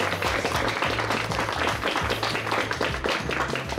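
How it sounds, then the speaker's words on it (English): An audience applauds the Benton team at the Arkansas Governor's Quiz Bowl state awards, steady dense clapping throughout, with a low hum or voice underneath. "Round of applause for Benton"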